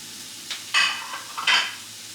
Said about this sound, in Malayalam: ഓയിൽ ചൂടായി വരുമ്പോൾ നമുക്കിതിലേക്ക് സവാള ഇട്ട് കൊടുക്കാം